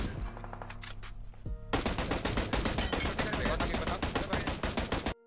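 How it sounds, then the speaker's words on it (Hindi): Gunfire in the mobile battle royale game BGMI: a few scattered single shots first, then a long continuous burst of rapid automatic fire that rattles loudly until it cuts off abruptly. "भाई इतना गन की आवाज आ रही"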